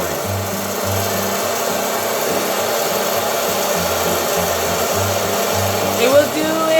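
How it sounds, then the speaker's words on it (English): A hot air popcorn popper blows and spins dried corn kernels, a loud, steady fan roar with a low rhythmic hum, running continuously throughout. "you see, it's spinning in hot air, and the heat is going to pop the"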